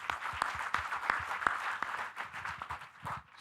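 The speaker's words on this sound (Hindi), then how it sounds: "मगही लोग उमेश जी के लिए ताली नहीं बजाएंगे क्या?" An audience applauds at a talk on regional languages and Magahi poetry, with sharp, scattered claps building into a brisk round of clapping that tapers off, close and moderately loud, with no speech over it.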